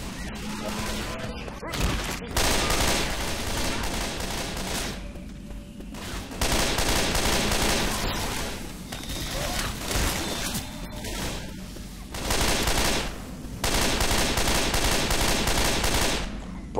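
A 150-round automatic weapon fires in Left 4 Dead 2 during the No Mercy campaign: long, loud, rapid bursts of gunfire separated by short pauses, close and dominant throughout.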